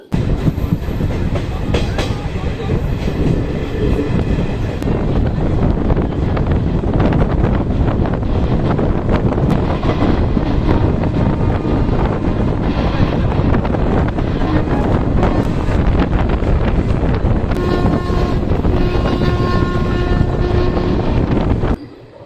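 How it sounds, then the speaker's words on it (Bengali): The 13113 Hazarduari Express rolls along steadily after leaving the station, with a loud, continuous rumble, rhythmic clickety-clack of the wheels and heavy wind noise buffeting the microphone. "ছেড়ে দিল আমাদের ট্রেন"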